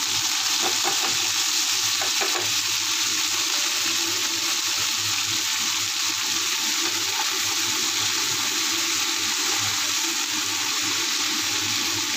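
Chopped garlic and water spinach fry in a hot pan with a steady, loud sizzle and hiss that runs without a break, with a few faint stirring knocks near the start.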